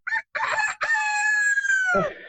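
A person imitates a rooster's cock-a-doodle-doo, voicing a few short clucks and then one long, loud, sustained crow that trails off, close to the microphone with no other sound around it.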